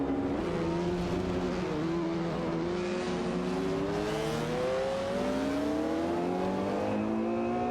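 Racing cars in an AI-driven racing game, including a Lamborghini Diablo VT and a Ferrari, roar continuously with engine notes rising and shifting as they accelerate, loud and close.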